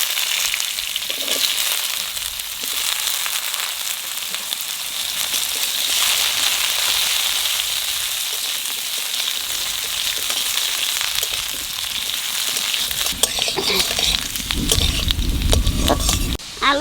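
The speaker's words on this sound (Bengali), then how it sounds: "এইবার এর মধ্যে আলু দিয়ে দেবো।" Potatoes fry in hot oil seasoned with panch phoron and dried chili, a loud, continuous close-up sizzle with crackling. Toward the end come a few stirring scrapes and a heavier rumble.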